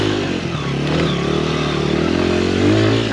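Honda XR100 enduro motorcycle revving hard while climbing a hill, a loud, close, sustained engine drone with rising pitch and rattling clatter, no voices.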